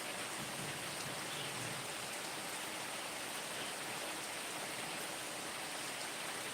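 Steady rain falls without a break, a dense, even hiss that holds at one level throughout with no voices over it.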